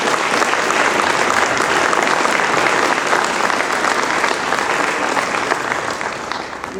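A gala crowd applauds hall of fame inductees at a sports hall of fame induction, a broad continuous roar of many hands clapping that stays loud and steady before easing slightly at the end.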